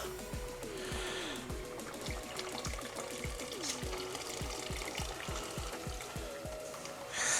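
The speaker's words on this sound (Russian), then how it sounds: "Я добавляю еще воду сюда." Water poured into a pot of French onion soup as it thickens with flour: a soft, continuous liquid trickle and splash, fairly quiet and close, with faint kitchen sounds and a brief louder bump at the end.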